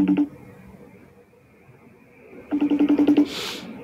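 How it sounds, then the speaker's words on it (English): A telephone call being placed: a quick burst of dial tones, a pause of faint hiss, then a rapid series of about eight evenly spaced dialing beeps followed by a brief ringing tone. "It's ringing."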